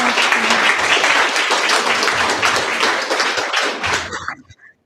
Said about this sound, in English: Can we give a huge round of applause?